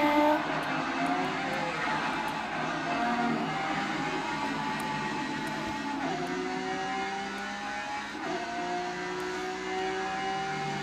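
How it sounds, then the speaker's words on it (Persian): A car engine runs steadily during a test drive, with a continuous hum whose pitch rises and falls slightly as it gains speed, close and fairly loud throughout. "بریم ماشین رو تست کنیم."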